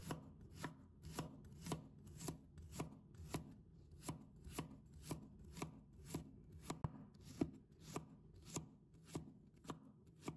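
Knife slicing garlic into thin slices on a cutting board, about twenty quiet, crisp taps in a fast, even rhythm, close up with no talk.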